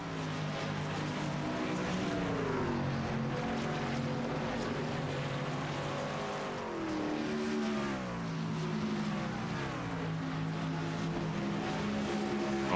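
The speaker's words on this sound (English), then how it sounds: "You hear the blare of the trucks all leaving pit lane." Race truck engines in a racing video game drone and blare as the trucks leave pit lane, a loud continuous roar with several engines rising and falling in pitch together.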